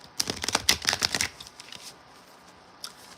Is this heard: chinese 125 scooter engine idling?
no